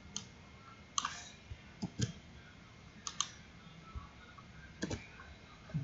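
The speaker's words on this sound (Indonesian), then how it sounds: "Teman tinggal ketik aja kayak gini" Keys on a computer keyboard are tapped in short, quiet clusters of clicks with pauses in between, close by against a faint background hum.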